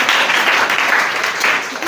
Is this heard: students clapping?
yes